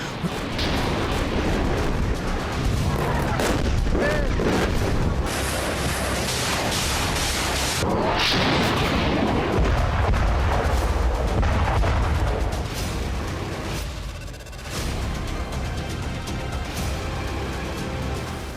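Wartime artillery fire and bomb explosions in the Nagorno-Karabakh conflict between Azerbaijan and Armenia, a loud continuous barrage of booms and rumbling blasts packed densely together with no pause, dense and overwhelming throughout.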